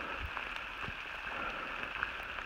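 Light rain patters steadily on a tent on the Appalachian Trail, a soft, even hiss of close drops with a few slightly louder taps and no voices.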